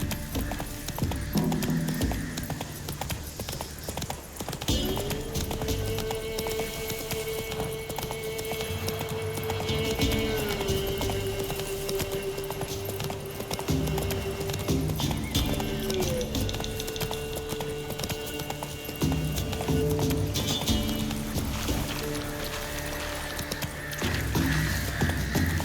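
Roach, Geralt's horse in The Witcher 3, galloping with steady rhythmic clip-clop hoofbeats under ongoing game music, with a sustained tonal drone in the middle and occasional louder thumps.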